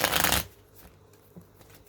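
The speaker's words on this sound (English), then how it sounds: "it's shuffling the same every single time" Tarot cards shuffled by hand in a quick burst of crisp riffling at the start, then a few soft card taps and slides in near quiet.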